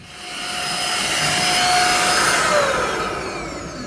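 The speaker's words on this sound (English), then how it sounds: "I'm finishing off doing the hoovering and cleaning all the outside down" A vacuum cleaner hoovers inside a narrowboat under repair, its loud steady whine swelling up and holding for a few seconds before easing slightly, with no talking.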